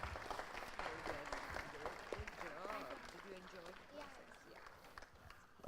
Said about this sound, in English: Please applaud for Adit Manikandan, who won first place in